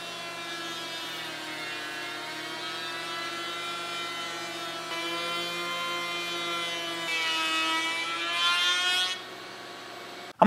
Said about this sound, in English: I'm going to use the back cutter of a panel raising bit and go all the way around the perimeter of each panel